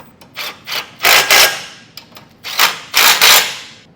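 Quick bursts of ratcheting from a 13 mm socket snugging down base plate bolts on a 2024 Ford Escape, irregular clicking runs with short pauses, close and fairly loud, with no talking.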